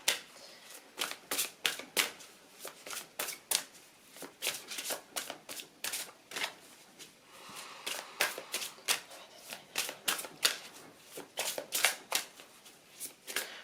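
A deck of oracle cards is shuffled by hand in quick, crisp riffles and slaps, repeating in an uneven rhythm for several seconds, close and fairly soft with no talking.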